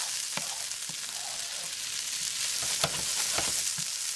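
Regular chili sizzling and frying in a hot pan, a steady crackle broken by a few louder sputters and stirring scrapes, close and alone with no talk.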